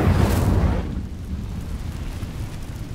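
The Incendio fire spell cast in Hogwarts Legacy bursts out as a loud whooshing roar, then settles into a steady crackling, rumbling burn that slowly fades.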